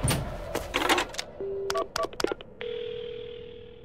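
Electronic phone beeps as a number is keyed in, a quick series of short tones, then a steady dial tone hums on alone, in the video game Paranormasight: The Seven Mysteries of Honjo.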